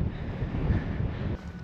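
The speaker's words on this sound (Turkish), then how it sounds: "Bayağı bir rüzgar esiyor burada." Strong wind blows high in the Talysh Mountains, buffeting the microphone in a loud, continuous low roar with no talking.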